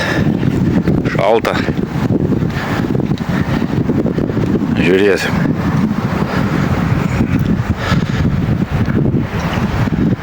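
Strong wind at a carp fishing pond, loud continuous rumbling buffeting across the microphone throughout, with someone speaking briefly over it.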